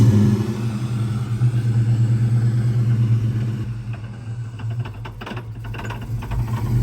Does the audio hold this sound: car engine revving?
yes